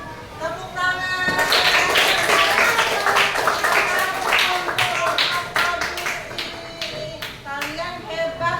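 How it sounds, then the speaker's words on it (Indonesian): A group of children claps enthusiastically in a burst of sustained applause that swells and then thins into scattered claps, with young voices calling out over it. "Tepuk tangan."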